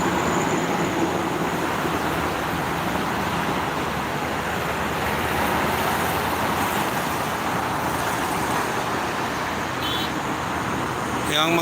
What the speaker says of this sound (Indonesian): Yang mengarah ke Jakarta sebelah kiri ramai sama kendaraan besar sama bus, truk-truk besar.